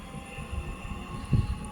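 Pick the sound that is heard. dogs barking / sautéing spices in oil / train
train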